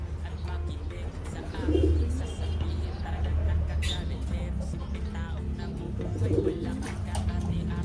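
Soft racing pigeon coos repeat a few times, close by, over a low steady hum and scattered small noises.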